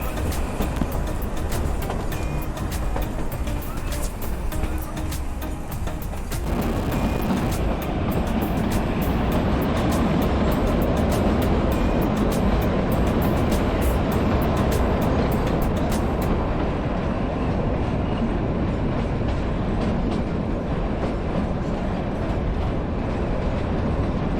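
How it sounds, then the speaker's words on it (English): Steady loud rumble and rattle of the narrow-gauge Kalka–Shimla toy train rolling along the tracks, continuous throughout with a constant clattering hiss, heard from inside the carriage. "Look at that bridge the toy train is passing on."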